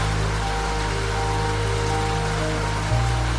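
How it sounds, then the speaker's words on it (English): Steady rain falls on a train window on a stormy night aboard the Coastal Pacific Express, a dense, unbroken wash of drops with a low rumble beneath that shifts slightly near the end. "and the rain continues to fall."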